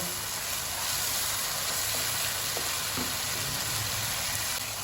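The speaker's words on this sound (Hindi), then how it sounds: "चिकन को अच्छी तरह से इसमें हम फ्राई करेंगे।" Chicken pieces fry in a pan for a bhindi gosht curry, a steady, fairly soft hiss of sizzling oil with occasional light clicks of stirring.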